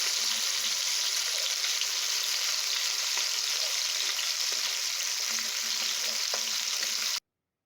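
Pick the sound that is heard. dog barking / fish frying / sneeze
fish frying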